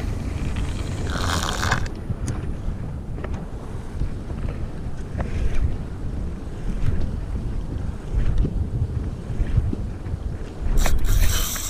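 A fishing boat rocks on open ocean with waves sloshing against the hull and heavy wind buffeting the microphone throughout.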